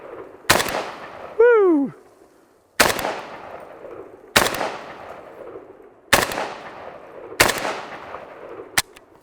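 Century Arms N-PAP AK rifle firing five loud, sharp shots spaced about one and a half seconds apart outdoors, each with a ringing decay, plus a brief whoop from a person between the first shots.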